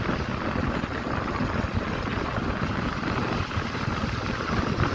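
A Royal Enfield Bullet motorcycle is ridden on the road from Mumbai to a village, giving a steady, continuous roar of engine and rushing wind that stays loud and even throughout with no voices.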